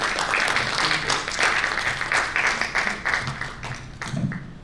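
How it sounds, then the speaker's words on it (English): A conference audience applauds a speaker, a dense sustained burst of many hands clapping that carries on for several seconds and gradually thins toward the end. "I think she deserves an applaud before she"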